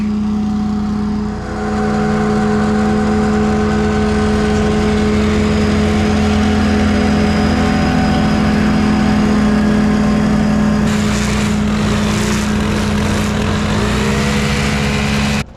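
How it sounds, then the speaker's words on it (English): A gas string trimmer edges a lawn while a mower runs nearby during a fall cleanup, a steady loud engine drone throughout with a brief dip near the start and a rising whine in the last few seconds. "So while Renee's mowing, I'm going to take out the string trimmer and carve us a new fresh edge."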